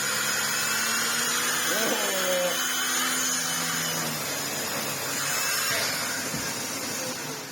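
A Miele S7 Cat & Dog vacuum cleaner runs steadily with a Shark turbo brush head fitted, a continuous loud whine with a few brief tonal sweeps as the airflow is restricted.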